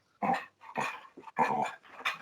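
A dog coming over to greet people indoors, giving a few close, breathy vocal sounds, short grumbling barks or whines in an uneven rhythm of four or five bursts.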